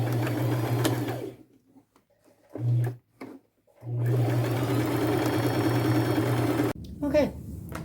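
A sewing machine zigzag-stitches patches onto thrifted jeans with gold thread, running in two steady buzzing bursts separated by a short pause and a few brief stitches, up close, with handling clatter at the end.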